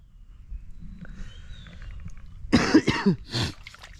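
Two or three harsh, close coughs burst out after a quiet stretch of faint background noise, each one short and loud.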